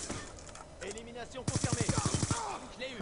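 Gunfire in Call of Duty: Black Ops 2, a rapid burst of automatic shots at about two seconds, mixed with game sounds and a person talking.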